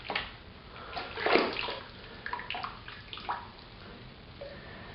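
Homebrewing gear shaken in a bucket of warm rinse water, making soft close sloshes and splashes with a louder surge early on, then smaller ripples.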